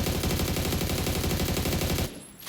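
Sustained rapid automatic fire from an AUG rifle fitted with a 6x scope in PUBG, a loud continuous burst of evenly spaced shots lasting about two seconds, then cutting off abruptly into quieter room tone.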